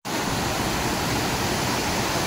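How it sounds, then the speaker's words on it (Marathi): Water rushes under pressure near a waterfall in the Ratnagiri countryside of Konkan, a loud, continuous, broadband roar that stays steady throughout. "इकडं पाणी बघा तर पूर्ण पाणी असं प्रेशरने वाहतंय बघा"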